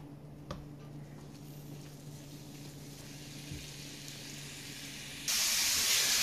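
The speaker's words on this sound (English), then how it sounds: "So I'm going to start out by browning my ground beef." Ground beef browns in a cast iron skillet with a soft, steady sizzle and hiss that surges into a much louder, spitting fry near the end.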